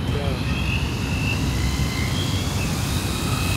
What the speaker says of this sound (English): Now that is a stable drone